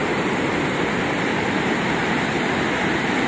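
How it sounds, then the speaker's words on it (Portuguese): The Salgado River in Aurora, Ceará, Brazil, running high and rushing downstream toward the Castanhão reservoir, heard as a loud, unbroken roar of churning water with no voices. "Essa é a quantidade de água que está descendo."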